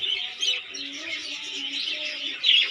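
Budgerigars chirp busily nearby, a dense, continuous wash of high twittering calls from several birds, growing slightly louder toward the end.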